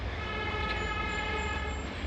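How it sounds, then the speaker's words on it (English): Distant road traffic rises from below a mountain trail on Blackstock Knob in Pisgah National Forest as a faint, continuous low rumble with a thin engine hum threaded through it, no voices present. "And hear the traffic down there."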